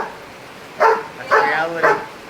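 Three short dog barks or yips spaced about half a second apart, mid-loud against a crowd-noise background at a CrossFit event.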